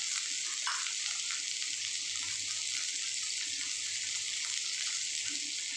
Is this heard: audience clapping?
no